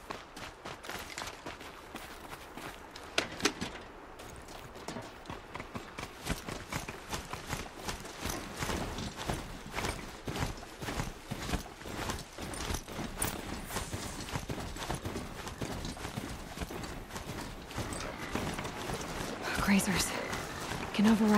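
Horse hooves clip-clop in the video game Horizon Zero Dawn, a steady run of quick hoof beats throughout under occasional soft talk and game sounds.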